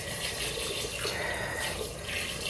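Tap water runs steadily into a sink for a cold face rinse, a continuous close hiss and splash with no pauses.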